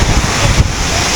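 Aagaya Gangai waterfall in the Kolli Hills, its falling water and drifting spray making a steady, loud broadband rush with low wind buffeting throughout, close to the microphone and with no voices.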